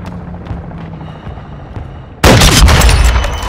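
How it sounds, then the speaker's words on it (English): A friendly mortar strike in a video game lands as a sudden loud, close explosion that keeps roaring and rumbling after a quiet stretch of faint distant battle noise. "Friendly mortar strike inbound."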